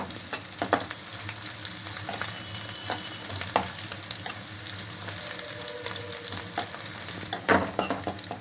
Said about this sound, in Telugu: ఆయిల్లో ఫ్రై చేసుకోవాలండి ఇవన్నీ. ఒక రెప్ప కరివేపాకు.